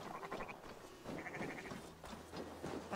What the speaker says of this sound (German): Die sind aber so süß, die Schafe.